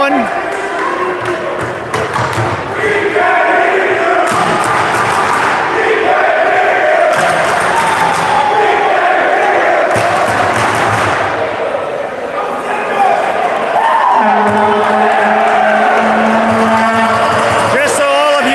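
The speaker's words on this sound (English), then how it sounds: "Even the Bruns fans starting to cheer on their team." Spectators at a high school basketball game between SRSS and JH Bruns cheer and shout for their team, a dense, continuous roar of voices filling a gym with scattered yells and whoops.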